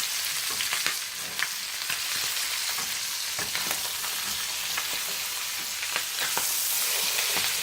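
Chicken legs turning crispy as they fry in a pan, a dense close sizzle with sharp crackles and the scrape of pieces being flipped partway through.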